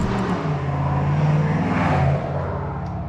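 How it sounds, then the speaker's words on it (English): A diesel truck accelerates hard nearby, a loud, rising engine drone that holds steady, then eases off toward the end. "Yeah, hammer down, diesel truck."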